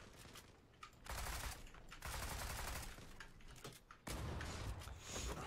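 Bursts of automatic rifle fire from the Zula online shooter game ring out in several sustained volleys, loud and close, with brief gaps between them.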